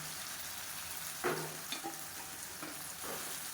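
Raw plantain pieces frying and being stirred in hot oil with tomato in a pan, a steady close sizzle broken by a few scraping stirs, with no voices.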